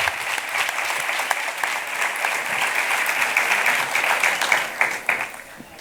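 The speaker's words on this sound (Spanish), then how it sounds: "un aplauso también para ellos" An audience applauds at the opening of a cultural talk event in Spain, sustained crowded clapping with sharp individual claps near the front, steady and loud before tapering slightly at the end.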